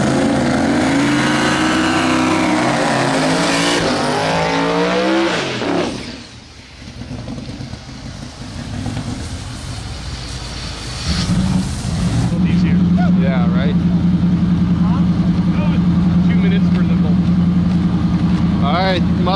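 Mazda Miata making a bye run at a drag race event, with loud engine roar and revving, a brief lull, then a steady droning engine. A voice talks over the engine noise.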